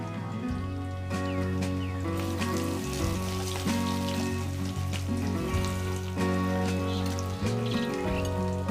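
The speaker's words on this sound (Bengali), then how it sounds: "দিয়ে দেব সরষে বাটা।" Mustard paste sizzling in a pan of oil while chalta (elephant apple) pickle cooks, a constant near crackle blended under steady background music.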